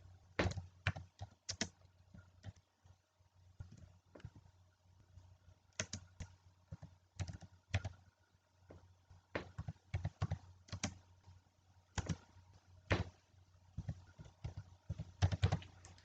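Keys clacking on a computer keyboard while text is entered into an online form, with irregular bursts of close, crisp clicks separated by short pauses; no talking.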